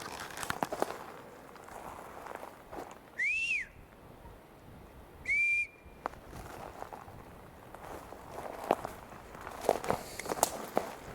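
A man whistles two short rising-and-falling tones outdoors, each clear and fairly loud, separated by a pause, over footsteps and rustling in the background.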